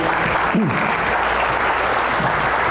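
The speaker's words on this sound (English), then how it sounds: "let's have a nice round of applause for them" Applause from an audience at a real estate masterclass, a dense steady roar of clapping that fills the whole moment, with a brief voice rising above it near the start.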